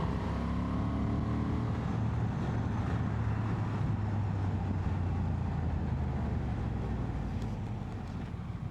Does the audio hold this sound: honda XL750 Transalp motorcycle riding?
yes